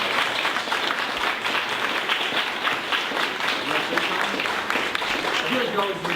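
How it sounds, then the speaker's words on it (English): An audience at a TEDx leadership panel gives panelists a big round of applause, steady and dense clapping throughout with a murmur of crowd voices mixed in. "let's give them a big round of applause for coming over"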